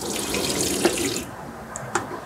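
Water runs from the tap into a camper van's kitchen sink in a steady hiss, then stops, followed by a couple of faint drips or clinks.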